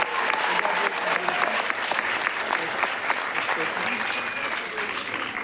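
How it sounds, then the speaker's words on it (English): An audience at a school superintendent's awards ceremony applauds an award recipient with dense, lively clapping that stays loud and close for several seconds, with faint voices mixed underneath. "How about a nice round of applause for Juliet Lanza Weinstein?"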